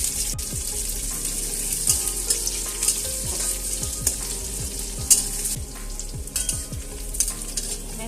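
Chopped onions hit hot oil seasoned with panch phoron while cooking a spinach curry, giving a continuous bright sizzle with scattered clinks and scrapes of a utensil stirring the pan, no talking.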